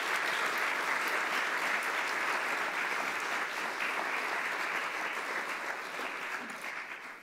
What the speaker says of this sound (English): please let's give our applause to the organizers and panelists